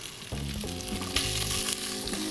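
Meat sears in a very hot pan with a steady loud sizzle and hiss, punctuated by scraping stirs and a repeating low rhythmic tone in the background, no speech.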